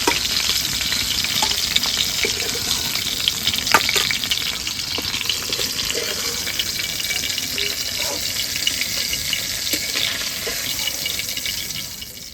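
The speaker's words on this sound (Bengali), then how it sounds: "বাকি যে চিংড়ি মাছটা আছে ওটা ভেজে নেবো" Prawns fry in oil in a pan with a loud, even sizzle and a constant close crackle that runs throughout, with no talking.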